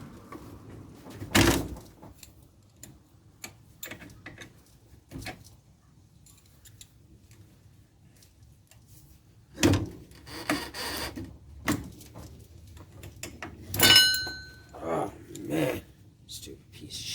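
Worn suspension bushings being pried out of a Polaris RZR 900S, sporadic scraping, knocking and creaking bursts of metal and rubber against long quiet gaps, with a person speaking in between.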